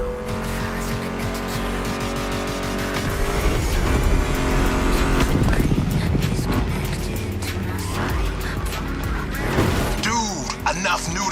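A Mustang GT muscle car in The Crew Motorfest roars and squeals its tires, with engine revs, skidding screeches and sharp bursts over a steady background of game music and occasional talk.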